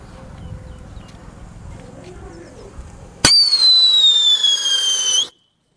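Holi thunder firecracker going off: after a few seconds of low outdoor background, one loud sharp bang, then a long whistling, crackling hiss that fades out after about two seconds.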